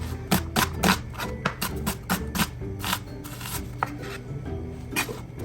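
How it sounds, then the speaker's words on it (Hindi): A knife finely slicing onion on a cutting board, a quick irregular run of crisp chopping taps, close and fairly loud, without talk. "उसे हम बारीक बारीक स्लाइस करके रख लेंगे"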